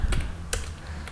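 Fingers tap a few quick keystrokes on a computer keyboard while someone works in Houdini 3D software. The close, crisp clicks come in a short, uneven burst.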